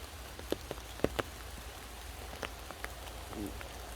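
Rain falls steadily in a forest during a thunderstorm, a continuous soft hiss with scattered sharper drops tapping close by, no voices.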